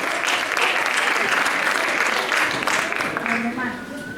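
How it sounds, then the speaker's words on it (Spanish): A school audience at a primary-school class debate gives a strong round of applause, dense and even for several seconds before thinning slightly, with faint voices beneath it near the end. "Un fuerte aplauso."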